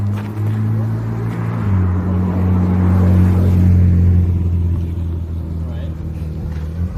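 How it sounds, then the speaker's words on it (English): A car engine rumbles steadily nearby as a really nice car pulls in, a low continuous drone that swells slightly mid-clip, with people talking over it. "Really nice car actually coming in."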